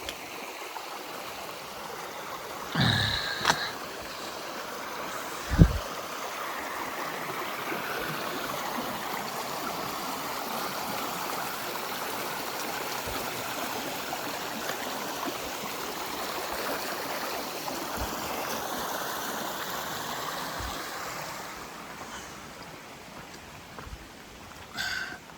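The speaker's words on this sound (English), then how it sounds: "Nice creek crossing." Creek water rushing over rocks at an Appalachian Trail crossing, a steady broadband flow that continues throughout, close and fairly loud, with a couple of brief knocks and no talking.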